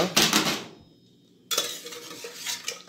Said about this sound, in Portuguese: Após 10 minutos, abre a panela.